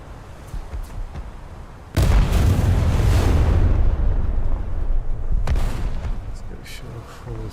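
Warship main guns firing in a naval combat game, a heavy booming blast that swells suddenly and rumbles on for several seconds, followed by a second, smaller thump and fading crackle.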